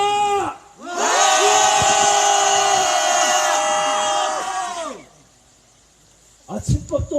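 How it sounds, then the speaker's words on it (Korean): A crowd at a peace protest rally in Soseong-ri shouts a long, loud, unified rally cry that holds for about four seconds and then fades. A few scattered shouts and cheers follow near the end. "함성 한번 지르고 시작하겠습니다."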